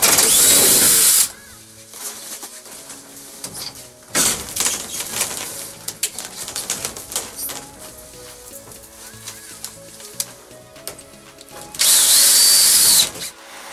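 Power screwdriver driving screws into a large three-by-nine-and-a-half-metre greenhouse frame: loud whirring bursts at start and end, with softer rattling and clicking handling noise in between.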